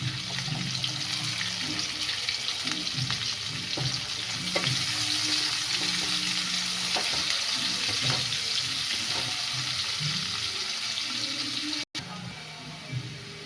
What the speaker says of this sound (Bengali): পেঁয়াজটা লাল লাল করে ভাজা হবে